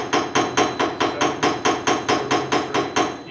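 A hammer strikes the spine of steel shears again and again in a steady rhythm of about fourteen blows, each hit loud, close and ringing with a sharp metallic tone that fades before the next blow.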